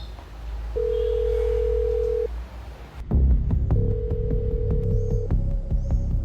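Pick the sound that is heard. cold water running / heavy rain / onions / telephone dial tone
telephone dial tone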